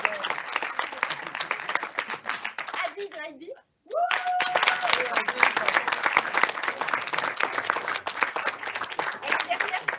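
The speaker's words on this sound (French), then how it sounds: "on va applaudir Michel Martin" A school exhibition crowd claps in dense, sustained applause for a guest, broken by a short pause with a voice before the clapping resumes strongly.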